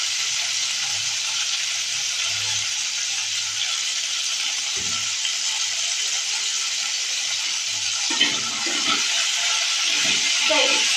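Mixed vegetables fry with salt in a pan, giving a loud, steady, close sizzle throughout, with faint spoon knocks and stirring scrapes near the end.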